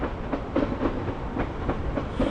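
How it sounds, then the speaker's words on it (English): Rhythmic clickety-clack of train wheels rolling over rail joints in Wrocław, Poland, a steady rumbling pass at moderate distance heard through trees, with no voices. "You can hear the trains."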